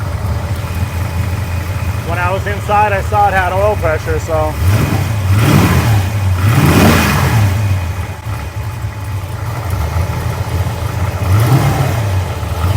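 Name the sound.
homemade Eleanor Mustang engine running and revving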